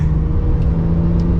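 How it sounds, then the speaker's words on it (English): Porsche 992 911 Carrera with the exhaust in sport mode, heard as a steady, loud, low engine drone while cruising, with no clear revs or pops. "In sport mode, the exhaust sounds good."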